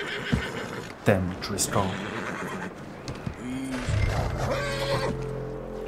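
A horse in the video game Red Dead Redemption 2 whinnies and snorts up close, with hooves shuffling, while someone speaks briefly over the sounds.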